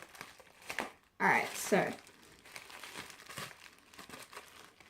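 A taped package of UV resin is torn open with a short burst of crinkling and ripping at close range, set among quiet, intermittent talk.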